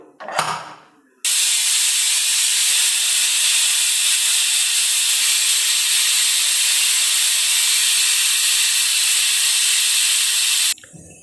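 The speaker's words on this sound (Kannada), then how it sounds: "ಕುಕ್ಕರ್ ಮುಚ್ಚಳನ ಮುಚ್ಚಿ ಒಂದೆರಡು ಈಸಿಲ್ನ ಕೂಗಿಸ್ಕೊಳ್ತೀನಿ" After a brief thump, a loud, continuous hiss of pressure-cooker steam whistles for about ten seconds before cutting off abruptly, with field beans cooking inside.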